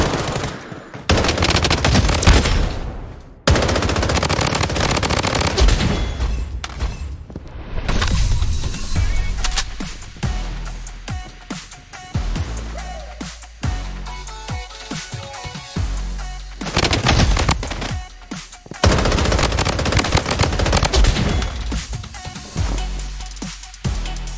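Sustained rapid automatic gunfire in the shooter game Bloodstrike, loud, close bursts of machine-gun fire that rattle on almost without pause, with brief breaks between volleys.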